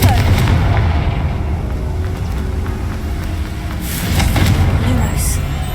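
Confringo fire spell in Hogwarts Legacy, a loud, rumbling blast with a burst of crackling impact near the end of the clip, played under a constant game backdrop.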